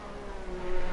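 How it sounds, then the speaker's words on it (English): Formula 1 race car engines in the F1 2019 racing game drone in a steady high-pitched whine, rising slightly in loudness over a brief moment, with no talk. "The sound of the engines though, 2019"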